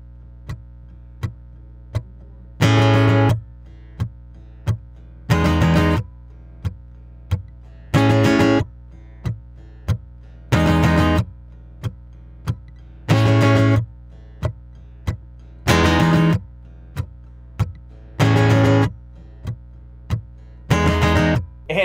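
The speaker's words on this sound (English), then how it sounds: "we have a really simple riff that only has two different chords in it, and it sounds like this" Electric guitar plays a simple two-chord riff from a song, short strummed bursts repeating in a steady rhythm with brief gaps and faint ticks between, solo and close.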